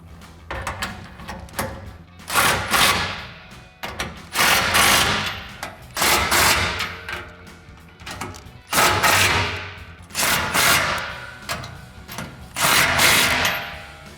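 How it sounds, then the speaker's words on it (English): A 19mm socket on a ratchet tightens bolts on a Jeep Gladiator JT bed rack, giving repeated bursts of loud, close ratcheting clicks separated by short pauses, with no talk. "we can take that 19mm socket to tighten everything down"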